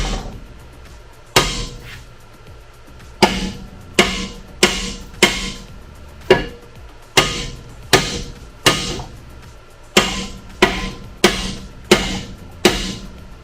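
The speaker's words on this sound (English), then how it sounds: "You're gonna hammer on this." Heavy metal hammer blows strike a car suspension part one after another during a lowering-spring installation, sharp ringing impacts at an uneven but steady pace, loud and close.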